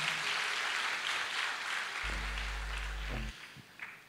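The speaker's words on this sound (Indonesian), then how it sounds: "Boleh tepuk tangannya di extend buat tim praise and worship kita" Brief, dense applause from a church congregation, moderately loud for about two seconds, then fading under a deep sustained organ-like tone and a few trailing claps.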